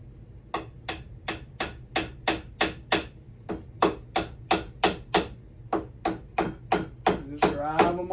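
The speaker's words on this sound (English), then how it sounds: "take your hammer and get them started" A hammer drives wedges into wood with about twenty sharp, evenly spaced blows, close and ringing, the strikes speeding up slightly toward the end.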